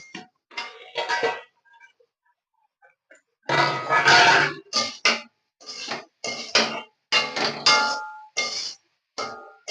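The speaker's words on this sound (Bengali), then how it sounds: "এবার আমি ঢাকাটা খুলে নেব" A metal lid comes off a cooking pan on the stove while small fish cook with onion stalks, giving sharp clanks and scraping bursts separated by short quiet gaps.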